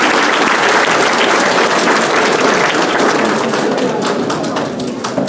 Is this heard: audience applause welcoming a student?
yes